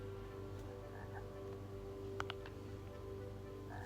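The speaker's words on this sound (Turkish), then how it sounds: "Kurbağa var." Faint frog croaks from the video game Lost in Play sound over a steady low hum, quiet and electronic-sounding.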